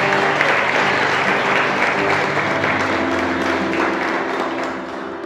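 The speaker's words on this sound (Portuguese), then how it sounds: "Dá uma oferta de palmas aí para Deus." A church congregation claps together through a sermon, dense, loud and steady, with faint sustained tones beneath and a slight fade toward the end.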